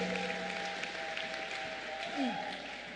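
A church congregation applauding, a sustained wash of clapping heard fairly quietly and at a distance, with faint tones and voices mixed underneath.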